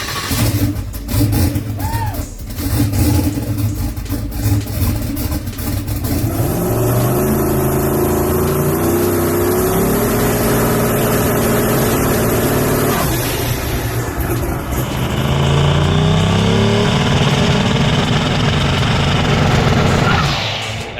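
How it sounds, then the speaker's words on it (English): A carbureted race car engine with carburetor trouble starts up and revs loudly, rising and falling through repeated throttle blips, then holds at a steady high drone near the end. "we got the car fired off"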